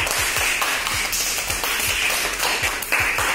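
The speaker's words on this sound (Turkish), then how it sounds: "Herkes güzel bir alkış diyebilir mi arkadaşlar?" An audience at a taekwondo session claps together in a steady, rhythmic beat of sharp, evenly spaced hand claps, fairly close and with no voices over it.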